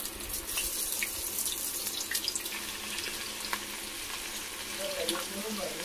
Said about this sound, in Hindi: देखो यहाँ पर कबाब अच्छे से फ्राई हो रहा है।